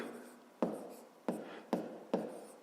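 A pen writes out a maths solution on paper, making four sharp strokes or taps at a steady spacing, close and quiet.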